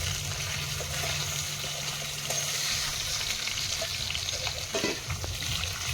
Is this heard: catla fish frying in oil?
yes